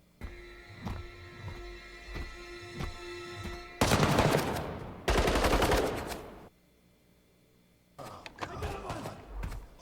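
Rapid bursts of automatic gunfire in the video game Halo 2, loud and harsh, arriving in two long sustained volleys and a later shorter burst, with background game sounds between them.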